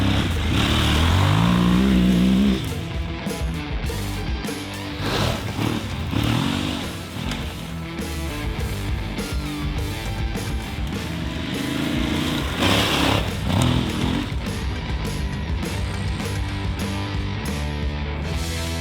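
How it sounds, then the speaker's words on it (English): An Aprilia Tuareg 660 Rally motorcycle rides off-road, its twin engine revving up sharply at first, then throbbing and surging unevenly as the throttle opens and closes throughout, loud and close. "the off-road only test of the Aprilia Tuareg Rally"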